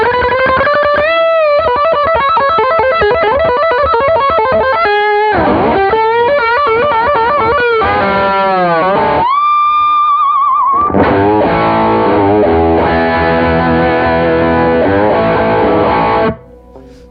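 Electric guitar played through an AnalogMan Prince of Tone pedal with the distortion dimed, loud and saturated, with sustained chords, bends and riffs running continuously before cutting off abruptly at the end.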